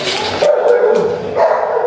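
An old Rottweiler gives a few short, close barks and yips over a steady whining tone, with sharp bursts spaced through a couple of seconds.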